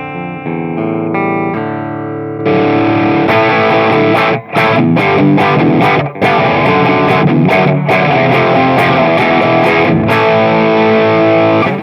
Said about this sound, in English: play you my clean sound and then kick in a sort of basic distortion sound that this pedal is really good for